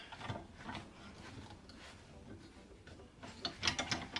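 A Silverline quick release 100mm drill vice is tightened onto a piece of aluminium, soft ratcheting clicks and metal-on-metal rubbing near at hand, quiet at first and growing busier and louder toward the end.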